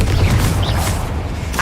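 A Confringo fire spell bursts in Hogwarts Legacy, a deep booming blast with a low rumbling tail, loud and close, followed by a brief crackle near the end.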